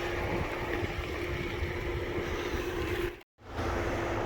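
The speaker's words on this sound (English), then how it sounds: "this little bit of running water right here" Continuous rushing wash of a small waterfall close by on a rocky mountain trail, broadband and steady, briefly cut to silence near the end before resuming.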